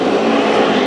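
Race cars in a tight pack during a heat at Santa Maria Speedway, a loud, steady roar of engines held at full throttle for under a second.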